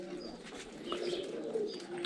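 Pigeons coo softly in a loft where young birds are being raised, a faint, steady low murmur of cooing throughout with no talking.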